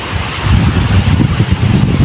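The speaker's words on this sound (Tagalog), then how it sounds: "Mahangin po, mahangin." Gusty wind buffets a microphone aboard an outrigger boat at sea, a steady low rumbling roar with rough fluctuating bursts and no other distinct sounds.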